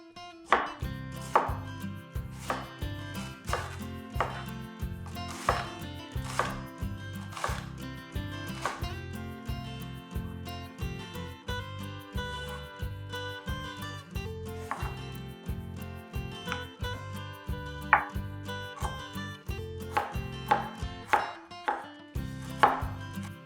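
A knife chopping broccoli, green cabbage, carrots and celery for vegetable soup on a cutting board, steady rapid rhythmic thuds running on and on, close and clear with no talk.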